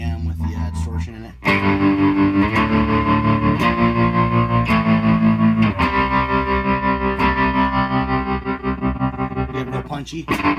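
Electric bass run through modded Electro-Harmonix pedals, a Crayon overdrive and Stereo Pulsar tremolo, with distortion engaged: a loud, sustained, gritty bass chord pattern that swells in after a brief quieter opening and drives steadily for several seconds.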